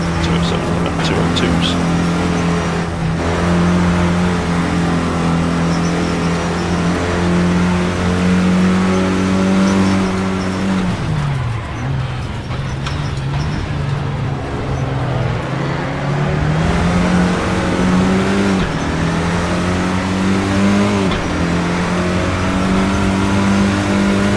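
Race car engine in a racing video game, revving steadily and high at full throttle, then briefly dropping on an upshift before pulling again, with someone talking over it throughout.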